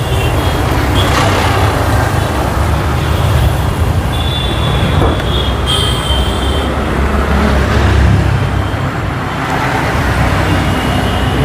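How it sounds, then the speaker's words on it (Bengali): A used Toyota Land Cruiser Prado's engine runs with a loud, steady rumble that holds constant throughout, mixed with some busy background noise. "চলেন এবার ইঞ্জিনটা দেখি।"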